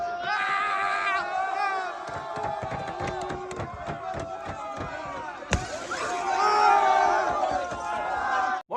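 Crowds of Paris Saint-Germain football fans fill the Paris streets after a Champions League final win, a roaring mass of shouts and chants with a sudden bang midway, and a voice talks over part of it.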